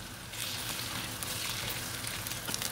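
Tomatoes go into ginger and garlic frying in oil for green bean keema, producing a faint, even sizzle with light stirring taps toward the end.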